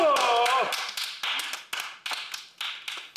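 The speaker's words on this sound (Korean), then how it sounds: "아, 박수" An audience applauds the next performer on stage with a slow, rhythmic run of separate, fairly close claps that follows a voice at the start.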